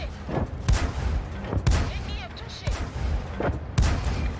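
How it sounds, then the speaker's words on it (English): Tank cannon shots in World of Tanks, fired by an AMX 13 57 light tank: about five loud, sharp booms spaced roughly a second apart, each with a short rumbling tail and game effects between them. "Takes him out with 5 shots."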